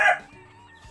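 A single short cluck from a white kelso gamecock, fairly close, fading quickly into quiet background with a faint soft bump near the end.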